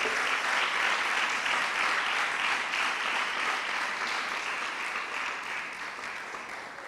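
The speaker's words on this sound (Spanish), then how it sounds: "Da un aplauso al Señor todavía," Steady applause from a church congregation during a Spanish-language sermon fills the room, sustained and dense, then slowly thins toward the end.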